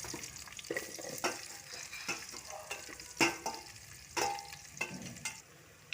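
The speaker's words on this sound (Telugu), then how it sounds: "సో మన ఉల్లిపాయలు ఫ్రై అయిపోయాయండి" Onions frying with bay leaves, cinnamon and cumin in an electric cooker, a steady soft sizzle broken by repeated scraping stirs and clinks of a spoon against the pot; no voices.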